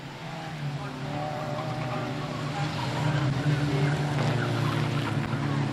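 Racing cars at a Standlake race meeting roar past in a continuous, loud engine drone that swells toward the middle, with no talk over it.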